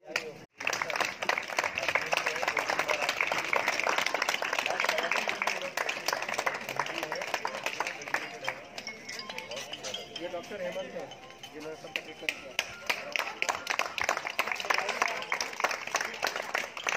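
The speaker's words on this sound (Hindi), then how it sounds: "हेमंत नरगावे व जिला अस्पताल की पूरी टीम की हौसला अफजाई ताली बजाकर करता हुआ नजर आया" Officials and a district hospital team applaud together, producing sustained crowd clapping at an even level through most of the stretch, with a brief pause at the very start.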